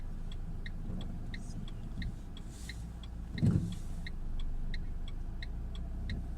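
A car climbing an uphill slope during a driving lesson, its engine humming steadily with a brief louder surge as it accelerates, heard from inside the cabin with faint regular ticking.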